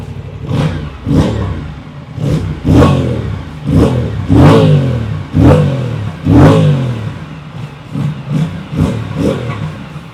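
An Aprilia Tuono 457 motorcycle engine blips repeatedly, about a dozen loud, close rhythmic revs, each rising and falling, with no talking.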